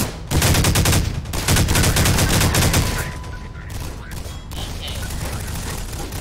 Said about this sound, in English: Oh, take some heavy fire!